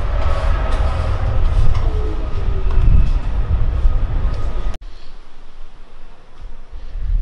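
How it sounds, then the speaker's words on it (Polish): Railway station ambience in Tuscany: a steady low rumble of a train with broad rail-transport noise, fairly loud, cutting abruptly and dropping to quieter station background after a few seconds. "Czekamy na pociąg, gdyż przyszliśmy akurat tak, że... Że odjechał."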